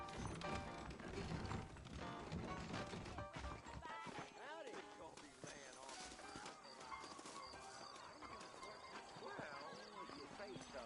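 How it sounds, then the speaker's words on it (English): Horses clip-clopping in Red Dead Redemption, played on PS3 hardware in a PS5 setup, heard amid a busy, loud game soundscape with music and voices throughout. "I got the horses saddled up and ready out front."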